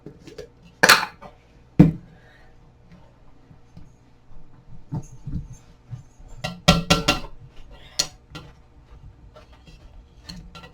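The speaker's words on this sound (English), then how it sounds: "We will add some peanut butter and then mash all of it up." Banana cookie dough with peanut butter is mashed in a bowl, giving scattered utensil taps and clinks against the bowl with a few sharper knocks between quieter squishing.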